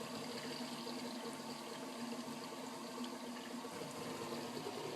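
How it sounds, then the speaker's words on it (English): Household washing machine filling with water, a steady rushing flow with a mechanical hum beneath, constant and moderately faint with no talking. "my wash machine is filling up right now"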